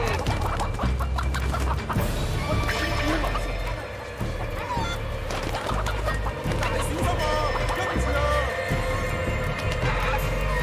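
Roosters cluck and squawk at a cockfight in the video game Sleeping Dogs, dense and continuous amid crowd chatter and loud game background noise, with voices talking throughout.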